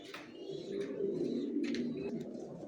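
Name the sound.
male racer pigeon cooing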